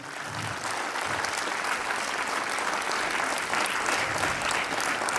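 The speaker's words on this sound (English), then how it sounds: "One big round of applause for these two celebrities." Continuous crowd applause at a ceremony celebrating Sikkim's first medals at a skills competition, with many hands clapping in a steady, loud roar throughout.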